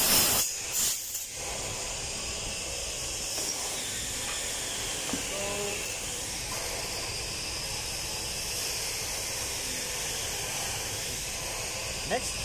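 Compressed air hisses steadily and loudly as it blows out the lapped parts of a slide-type fuel valve from a main marine engine, a continuous rushing blast after a few short bursts at the start.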